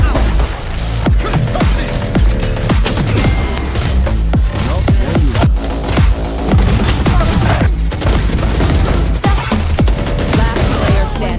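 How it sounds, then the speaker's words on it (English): Valorant match gameplay at a 2025 MSC esports event, packed with continuous loud gunfire bursts, rapid automatic fire and repeated heavy explosion booms and crashes, dense and relentless throughout. "Bomb grenade out."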